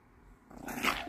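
A pinscher growls briefly up close, a low rumble rising into a sharper snarl as it bites at a cloth, with no talking.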